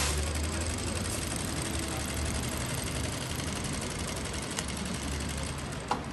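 A straight-stitch domestic sewing machine runs steadily and continuously for free-motion quilting, giving a fast, even mechanical hum with a faint click near the end, with no voices.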